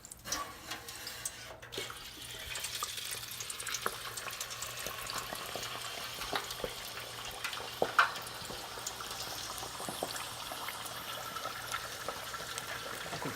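Turkey frying in a pot of hot grease, a steady, soft bubbling crackle that holds evenly throughout with a few brief pops, close by and without voices.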